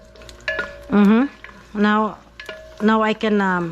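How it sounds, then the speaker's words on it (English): Garlic sautés in a pan, crackling and sizzling while something is stirred and scraped in short bursts, close up, with someone speaking briefly over it. "Go ahead and saute your garlic."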